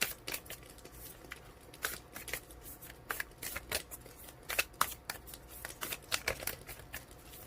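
A deck of tarot cards being shuffled close by, with repeated riffling bursts and soft flicks of the cards over several seconds and no one talking.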